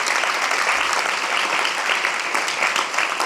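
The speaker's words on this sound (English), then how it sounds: "Let's give them a round of applause" Round of applause for event organizers at a tribute gathering, a sustained, even wash of clapping from a sizable audience, heard alone.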